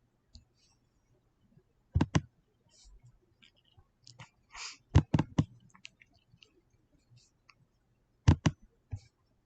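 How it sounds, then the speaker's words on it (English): Sharp clicking from someone testing a clicker or mouse, heard in three tight double-click pairs with scattered faint ticks and small noises between them. "Can y'all hear me clicking when I click?"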